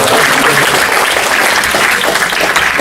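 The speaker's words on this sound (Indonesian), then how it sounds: "Tepuk tangan untuk kita semua." An audience applauds steadily at a classroom or seminar gathering, a dense, loud wash of clapping from many hands that continues without pause throughout.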